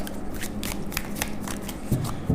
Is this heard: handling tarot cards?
yes